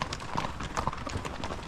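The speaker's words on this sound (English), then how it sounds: "Riding great horses through amazing country, a horse drive punctuated by lots of good humor and laughter." Horses' hooves clip-clop steadily during a spring ranch horse drive through open country, a close, continuous rhythmic patter of many hoofbeats with some background noise.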